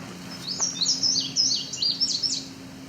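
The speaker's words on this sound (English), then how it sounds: "So that's indigo bunting, male, very deep blue color, almost iridescent" A male indigo bunting sings nearby at Otter Lake, a bright, high phrase of paired, sweeping chirps repeated in quick succession over a low steady hum.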